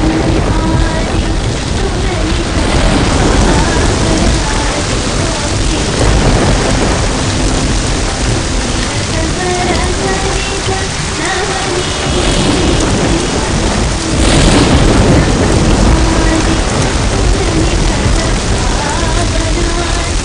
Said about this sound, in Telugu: వాన మొదలెట్టింది.